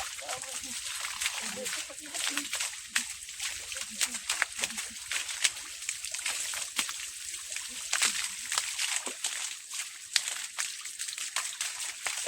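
Quiet, uneven splashing and sloshing of water from a tap during bathing, with irregular bursts as water is poured and slapped about, fairly close.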